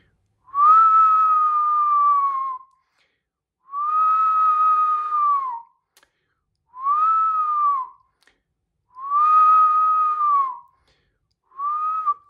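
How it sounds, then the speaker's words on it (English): Five sustained whistled notes, each held about two seconds and separated by short pauses, loud and clear with no other sound. "when you whistle, you just blow air out"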